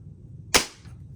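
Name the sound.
quiet pest-control air gun shot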